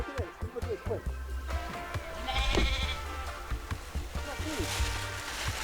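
Sheep in a Cornwall vineyard bleat several times at close range, overlapping with people talking, over a busy background.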